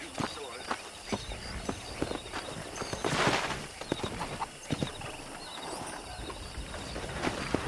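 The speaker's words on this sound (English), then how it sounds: "there's a pack of wild horses nearby" Rhythmic hoofbeats clip-clop steadily throughout as a horse moves at pace in Red Dead Redemption, with a busy outdoor ambience and a brief whoosh of wind or motion midway.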